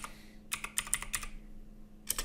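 Quick bursts of typing on a computer keyboard, with several clustered clicking keystrokes, a brief pause, then a final short flurry, close and moderately quiet with no speech.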